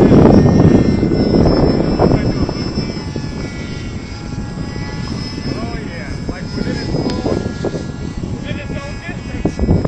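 A Depron foam F14 model jet flying outdoors, its engine whine steady across the whole stretch, loudest at the start and fading slightly as it passes, with people talking throughout over the buzz.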